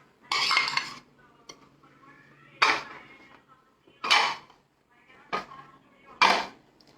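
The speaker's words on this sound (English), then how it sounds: "Again with a spoon, I am just mixing all of this together." A spoon scraping and clinking in a bowl while mixing melted Amul unsalted butter into dry tart ingredients, five distinct bursts of metallic scraping separated by quieter pauses, close and clear.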